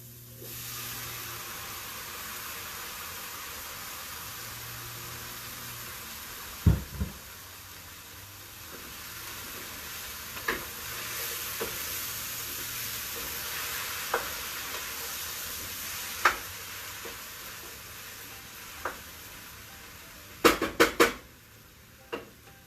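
Vegetables frying in a hot pan in a home kitchen, giving a steady sizzling hiss that runs throughout. Scattered sharp clinks and knocks of utensils against the pan break in at intervals, with a quick cluster of them near the end.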